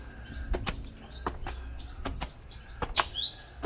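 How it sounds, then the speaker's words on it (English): Birds chirp along a hillside nature trail, with bright, scattered tweets and short calls mixed among sharp knocking and clattering noises close by, heard without talk. "With the bird background."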